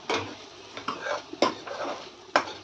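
A spoon scrapes and stirs onion-tomato masala with vegetables for a cowpea usal in a pan, giving a few sharp metallic clanks over soft continuous scraping and faint sizzling, close and alone without talk.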